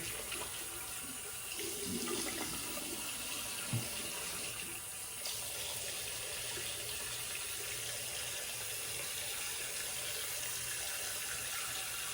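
Steady running water from a tap pours into a sink throughout, with brief splashes and clatter of rinsing a razor early on.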